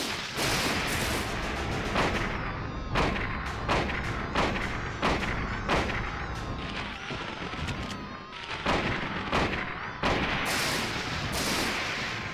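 Gunshots in the video game Silent Hill: a rapid series of loud, sharp, close blasts fire at an irregular pace throughout, over a constant, dense background rumble.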